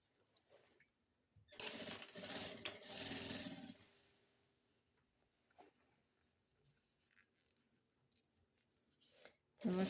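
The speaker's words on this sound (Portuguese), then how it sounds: "aqui eu passo a costura reta, fechando toda aquela abertura, retrocesso no início e no final" Sewing machine running a straight seam to close a lining on a suede zip pouch, one loud steady burst of stitching lasting about two seconds near the start, then quiet handling noises, with a brief louder sound at the end.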